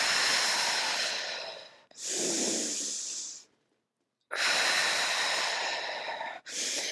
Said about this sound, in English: Exhale to come up.